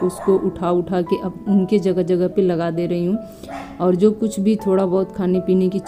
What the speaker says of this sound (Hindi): बाहर से कुत्तों की भौंकने की आवाज़ आ रही है